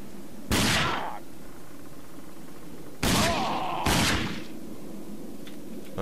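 Three sharp, loud gunshot bursts from a gun in the video game Rage: one shot, then a pause, then two close together, over a low steady game background.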